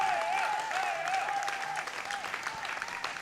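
Crowd applauding steadily at the women's 47 and 52 kg World Open Equipped Powerlifting Championships 2021, a dense continuous clapping under a commentator's voice throughout.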